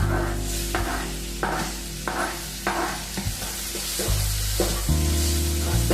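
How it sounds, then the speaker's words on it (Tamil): Onion and tomato for paneer bhurji sauté in a pan, a continuous sizzle punctuated by rhythmic scraping strokes roughly every second, close and without talking. "இப்போ வெங்காயம் தக்காளி நல்லா சேர்ந்து வதங்கட்டும்."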